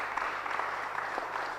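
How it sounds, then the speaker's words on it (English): A short burst of steady audience applause for the panelists at a forum on using data for decision making, dense and even throughout. "Can we all give a round of applause to our panelists?"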